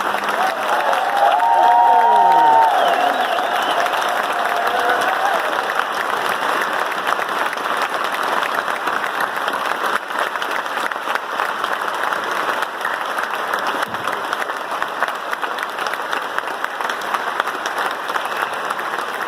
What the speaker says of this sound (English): we offer a final round of applause to recognise our graduates' achievements